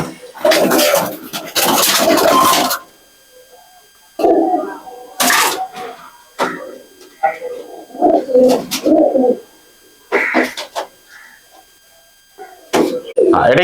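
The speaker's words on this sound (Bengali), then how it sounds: "এটা সব থেকে বাড়ির পুরনো পায়রা আমার, হর্ষাল লাইনেরই পায়রা" Old-generation Madrasi pigeons, including a Harshal-line bird, coo in a home loft in soft repeated bursts, close by, with people talking over and between the calls.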